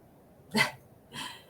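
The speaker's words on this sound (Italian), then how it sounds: "c'è stato un abbaio del mio cane" A single dog bark close by, followed a moment later by a second, softer bark, set against a quiet indoor background with no talking.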